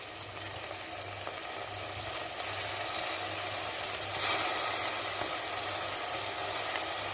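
Onions browning in a kadai with ginger garlic paste just added, a steady low sizzle and hiss running through under a faint background hum, with no talking.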